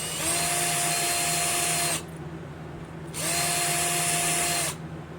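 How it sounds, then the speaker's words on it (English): A small power drill with fine bits bores slowly into metal in a blacksmith's shop, running in two steady, whining bursts separated by a brief pause, close and loud with no talking. "So I did not want to break those smaller drill bits."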